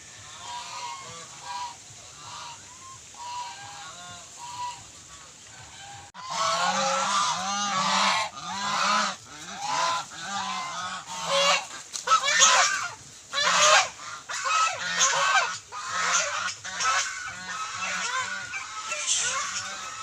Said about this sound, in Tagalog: So ito mga alagang gansa